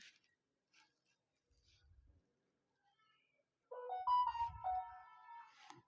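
Mobile phone ringtone going off in a law classroom, a short melodic tune that plays near and clear after scattered quiet sounds.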